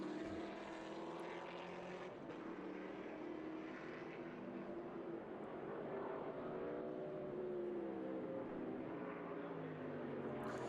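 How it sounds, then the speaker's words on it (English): A white Protofab Wally Dallenbach Jr. Camaro race car passes on the Watkins Glen track during an SVRA Group 10 vintage feature race, its engine a steady loud roar that holds and swells slightly throughout with no talk. "But that's that Protofab Wally Dallenbach Jr. Camaro out there."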